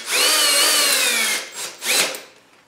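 A cordless drill spins at full speed to remove its chuck, with a loud whine held for about a second and a half, then two short revving bursts that fade away, heard close up with no talking.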